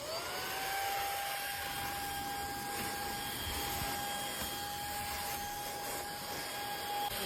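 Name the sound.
cordless vacuum cleaner running on low mode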